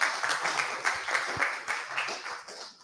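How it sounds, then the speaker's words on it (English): An audience at an education seminar claps steadily together, a moderate round of applause heard from within the room. "Please have a round of applause, Mr. Raihanul Chaudhuri."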